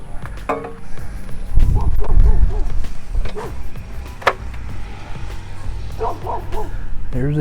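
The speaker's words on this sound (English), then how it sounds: "My dog barking at anything that moves." A pet dog barks and yips in several bursts close by in a backyard while an Intex pool is set up, with a person talking in between.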